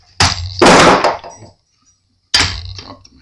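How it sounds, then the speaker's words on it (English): A hammer drops during work on a Gitano acoustic guitar, giving a sharp clattering impact with a brief rattle. A second thud follows after a short silence, close and loud. "Dropped my hammer."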